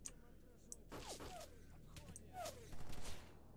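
Automatic weapon fire in S.T.A.L.K.E.R. Anomaly, a rattling burst of shots near the end after scattered quieter gunfire, with a voice talking over it.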